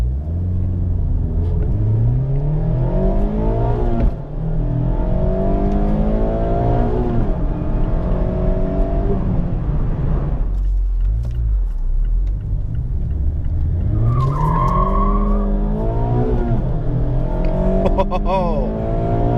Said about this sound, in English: You can rev it out and hold on to the rev so much longer.